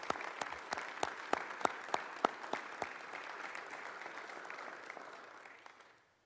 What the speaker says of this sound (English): How about a round of applause for the Georgia Department of Veterans Affairs and Commissioner Ross